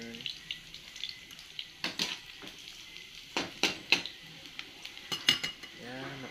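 Utensil scraping and clinking in a pan as carrots, potatoes, garlic and onion are stirred together for chicken curry, with a run of irregular close scrapes and taps against a faint background hiss.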